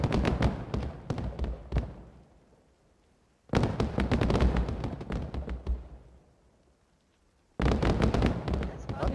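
Fireworks from a video game server wipe finale crackle and boom in three dense bursts, each a rapid barrage of loud pops that fades out before the next volley starts.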